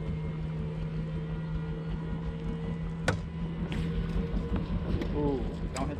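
A Mercury race outboard engine on a bass boat at a lake fishing tournament makes a steady, fairly distant droning hum, with people talking and brief knocks nearby.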